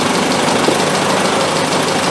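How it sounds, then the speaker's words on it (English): A car's exhaust idles after SU carburettor tuning during a roundtail restoration, a steady, close, loud low rumble with slight uneven pulsing and no talk. "I'm going to go back and listen to the exhaust real quick."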